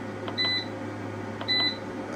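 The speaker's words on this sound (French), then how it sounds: "on a entendu les petits bips" A solar battery charging system gives two short, thin electronic beeps about a second apart, faint over a steady low hum with light background noise.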